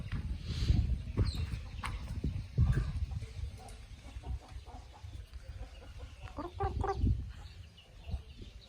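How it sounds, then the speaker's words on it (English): Chickens cluck and call in scattered bursts, fairly quiet, with a rooster-like cry among them against an outdoor background in the hot Cambodian countryside. "Chicken maybe."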